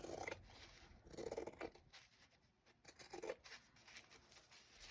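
Large scissors snip through fabric in a quiet craft room, with a few soft crisp cuts separated by brief pauses, close and faint.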